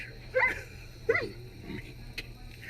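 Two short, high whimpering yelps from a dog come close together, followed by a fainter whine over a low background hum.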